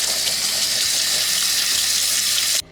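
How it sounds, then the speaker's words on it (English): Cold water pours from a kitchen tap over a batch of boiled potatoes in a steady, loud, even rush, then cuts off abruptly near the end. "We've got cold water going over them."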